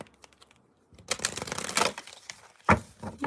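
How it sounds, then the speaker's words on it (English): Oversized archetype oracle cards being shuffled by hand, a few faint taps at first, then a dense, quick burst of riffling and flicking, ending in a couple of sharp slaps, close and fairly quiet. "See if I can shuffle them like this."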